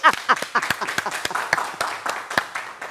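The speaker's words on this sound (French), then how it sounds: "Applaudissez!" A small studio group claps in a loose, uneven rhythm, with distinct individual hand claps rather than a dense wash, while a voice briefly talks over them.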